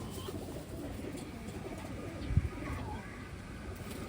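Pigeons cooing in a crowded enclosure of Taiwan birds, soft low coos over a steady background murmur, with one louder thump near the middle.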